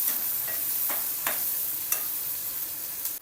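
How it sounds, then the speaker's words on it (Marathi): Chopped onion sautés in hot oil with asafoetida, mustard seeds and cumin in a kadhai, giving a constant close sizzle broken by several scraping stirs of a spoon, with no talking. "कांद्याला परतून घ्यायचं।"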